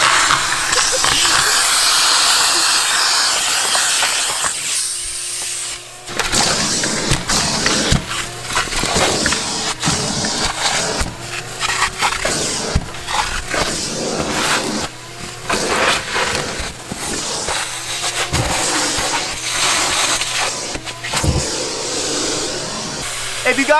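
A shop vac runs steadily and loud throughout, a broad whooshing hiss with a low hum, while people talk over it; the work is part of a Mazda Miata restoration.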